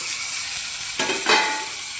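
Tomatoes tipped into browned onions frying for poha, a continuous sizzle with a sharp crackling surge as they hit the hot oil, close and alone.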